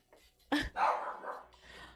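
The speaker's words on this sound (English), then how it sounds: "I'm sorry he keep barking" A dog barks in a home during a live stream, two or three sharp, fairly close barks in quick succession, with a brief voice and room noise between them.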